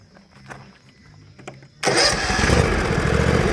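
A lawn mower engine, just back together after a carburetor repair, coughs through a couple of quiet pulls and then catches abruptly, settling into a loud, steady running roar close by.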